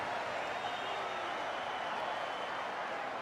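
Rugby league crowd at a 1995 Auckland Warriors versus Brisbane Broncos match cheering and applauding after a conversion, a steady, loud wash of distant stadium noise that holds level throughout.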